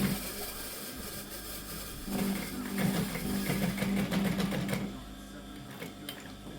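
A sewing machine runs in bursts while hemming a jacket, its rapid mechanical chatter rising loud in the middle and dropping back, with soft talk in the room around it.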